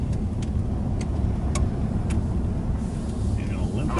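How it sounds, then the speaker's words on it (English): A dump truck stuck in second gear, its engine laboring in a steady, continuous low rumble close by on a dirt road to Dawson City, Yukon, with a few faint ticks over it. "This dump truck can't get out of second gear."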